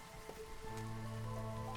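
Soft, steady drizzle patters continuously in the colony-building video game Against the Storm, with sustained tonal game music layered over the rain.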